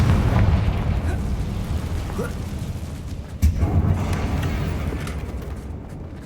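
Fiery Confringo spell blasts in Hogwarts Legacy gameplay, with a dense, rumbling low roar and one sharper burst partway through, loud and continuous against the game's background.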